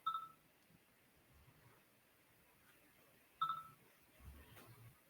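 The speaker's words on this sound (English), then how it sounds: "Somebody's blowing up my phone." Two short electronic phone alert tones sound a few seconds apart, faint and close, against quiet background with slight murmurs.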